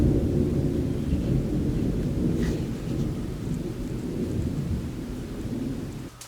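A thunderstorm rumbles low and steady under constant heavy rain, a dense, unbroken wash of rainfall and distant thunder with no voices.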